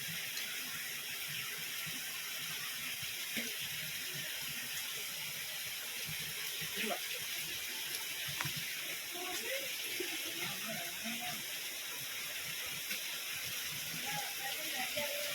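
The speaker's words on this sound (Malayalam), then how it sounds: "പാറയുടെ അടിയിൽ വെള്ളം ഇങ്ങനെ ഊർന്നിറങ്ങുന്നുണ്ട്" Water seeps and trickles beneath rock inside Kochareekkal Caves, a constant hissing wash of flow that fills the space, with faint voices briefly audible in the background.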